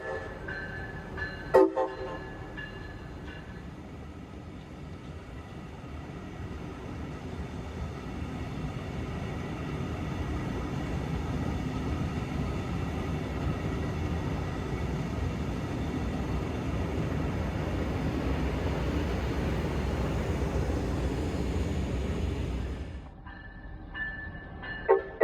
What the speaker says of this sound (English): This first train was a low speed test.